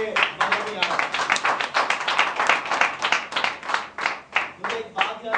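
A small group in a training session claps in a quick, uneven burst of separate hand claps, moderately close, lasting several seconds without a break.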